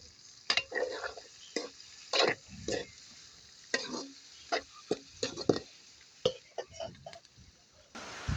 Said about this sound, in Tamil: அடுத்து நாங்கள் வெங்காயத்தை போட்டு வதக்கி எடுப்போம்